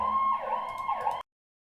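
An emergency vehicle siren wails outside, its tone sweeping up and down steadily for about a second before cutting off abruptly.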